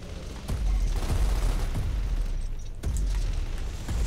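Heavy weapon fire in the Gears of War video game, a deep booming blast with rumbling low-end bursts that swell and repeat across the stretch, loud and close with no talk over it.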